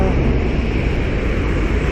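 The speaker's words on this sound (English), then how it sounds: "There's a lot of traffic." Steady road traffic rolls past a street crossing, a continuous loud, low rumble of nearby vehicles with no clear gaps.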